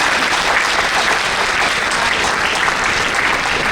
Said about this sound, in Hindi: मुझे लगता है कि जोरदार तालियों की दरकार है